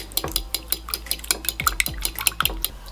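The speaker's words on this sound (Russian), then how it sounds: "Берем вилку или венчик. И взбиваем." Rapid, rhythmic clinking as a fork or whisk beats against a bowl, whisking a mixture seasoned with black pepper, a steady series of close metallic taps with no talking.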